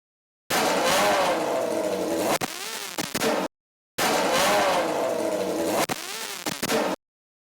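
Superbike screaming along public roads in a street race, heard onboard: a loud high engine whine rising through the gears, cut by sharp shifts and a brief lull, repeated twice.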